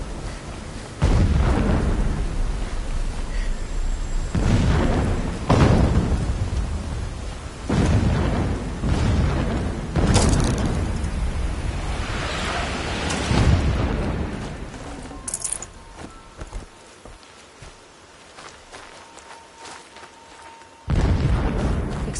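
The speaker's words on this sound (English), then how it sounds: "Explosions in the distance." Distant explosions in Horizon Zero Dawn Remastered thump and rumble in a string of heavy booms with long rolling tails, spaced a few seconds apart, followed by a quieter stretch before one final blast.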